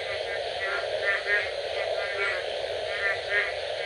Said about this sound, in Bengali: এবং সেই সাথে ব্যাঙের ডাক এবং ঝিঝি পোকার শব্দ।